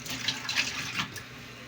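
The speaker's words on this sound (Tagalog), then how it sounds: "So nanghugas din na siya sa plato guys no." Running tap water splashes over plates at a kitchen sink while dishes are washed, a steady close wash of water with a few brief clinks and splashes.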